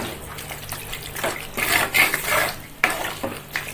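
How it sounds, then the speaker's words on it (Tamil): A spoon stirs country chicken fry made without masala powder in a hot pan, giving steady sizzling with scraping and clinking of the utensil against the pan, close up and with no talking. "எல்லாமே நல்லா கலக்கி விட்டுக்கிறேன்."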